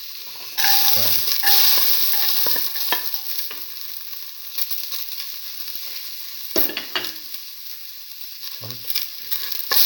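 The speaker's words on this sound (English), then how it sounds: "Now put in the garlic." Garlic sizzles loudly in a hot pan and is stirred with a utensil that scrapes and clatters. The frying hiss stays steady throughout, and a brief spoken word cuts in near the start.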